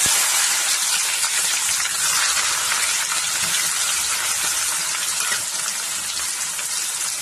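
Onions hiss and sizzle steadily in hot oil with cardamom, cinnamon and cloves for a Tamil-style egg curry, a loud, continuous bright crackle close to the pan with no break.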